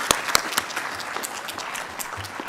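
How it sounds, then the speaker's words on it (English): Applause at a Texas A&M University at Galveston graduation commencement ceremony, a brief burst of crowd clapping with a few sharp nearby claps over a dense spread of hand claps from the audience. "we can clap for that"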